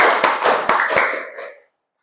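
A classroom of students claps in unison during an ice-breaking counting game, about four to five sharp, ragged group claps in quick succession, fairly close and loud, then fading into silence.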